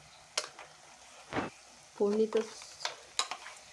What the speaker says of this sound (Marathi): वाटप तेल सुद्धा करून जरा परतायचं